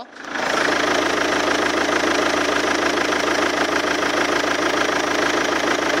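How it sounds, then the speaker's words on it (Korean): A Chevrolet Winstorm SUV diesel engine idles up close with the hood open, starting up and then settling into a steady, loud rumble with a faint ticking clatter. "윈스톰 차량 엔진룸 개방했고요 엔진 소리 들어보도록 하겠습니다"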